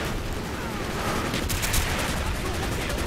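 Dense, continuous machine gun fire in the video game Call of Duty: Black Ops, a steady loud roar of rapid shots with no breaks.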